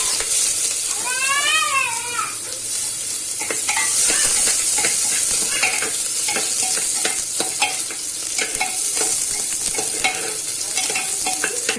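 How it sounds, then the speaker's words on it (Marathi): Onions sizzle and fry in a hot pan with cloves and cardamom for crab soup, a steady crackling hiss with repeated scraping stirs of a spoon, close and loud, with a brief squeaky sound near the start. "आता आपण कांदे टाकून घेऊ."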